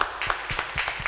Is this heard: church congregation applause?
yes